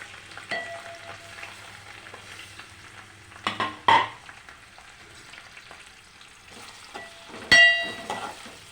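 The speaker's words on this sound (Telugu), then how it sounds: "ఇది మంచిగా ఫ్రై అవ్వాలి చూడండి మనకి ఆనియన్ గ్రీన్ చిల్లీ రెండు ఫ్రై అయిపోయాయి" Onion and green chilli fry in oil with mustard seeds and cumin in a pan, a quiet sizzle broken by louder bursts of stirring and a few sharp scrapes and clanks of the spatula.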